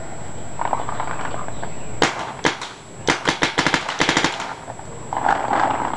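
Planet Eclipse Ego8 paintball marker, fitted with a Prophecy loader and tank and set to PSP 13.5 mode, fires sharp, loud, close pops in a quick rhythmic string, some rapid bursts and some spaced shots, over a steady background hiss.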